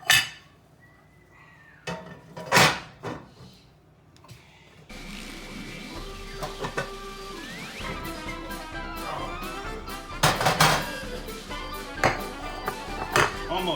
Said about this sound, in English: Now we're gonna flip it over and put it on this plate